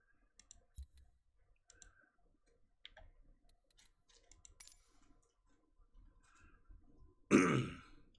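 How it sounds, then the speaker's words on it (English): A single close cough bursts out near the end after a long quiet stretch of faint clicks and small handling noises. "Excuse my cough."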